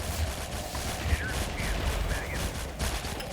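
A steady patter of dull mortar and gunfire blasts from the City Defense Z video game fills the background, with a talking voice faintly over it.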